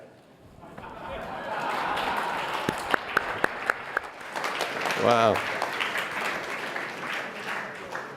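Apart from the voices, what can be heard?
applause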